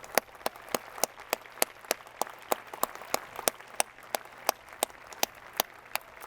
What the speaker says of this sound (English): please give yourselves and one another a round of applause.